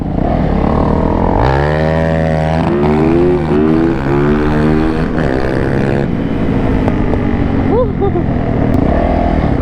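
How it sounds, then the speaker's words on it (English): A big scooter engine of roughly 500cc revs loudly up close, rising and falling in pitch through several throttle sweeps, with people talking over it. "Big old scooter. It's probably like a 500cc."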